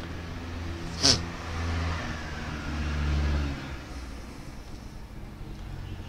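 A truck's engine labours up a road outside, a low rumble that swells twice as it revs and then fades. A sharp high tone cuts in briefly near the start.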